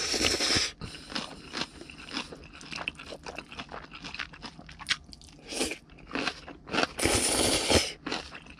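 Jjajang ramen and kimchi being eaten up close, with loud crunchy bites and wet chewing in irregular bursts, no talking.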